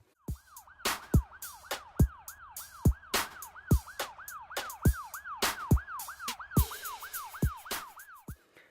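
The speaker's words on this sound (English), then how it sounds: "putting in sirens and police radio sound effects" A wailing police siren sweeps up and down rapidly and continuously, layered with sharp thuds and clicks of radio-style effects.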